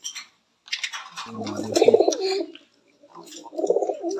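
A grizzle racer pigeon coos in a racing pigeon loft, two low throaty coo phrases separated by a pause, close and clear with faint rustling between.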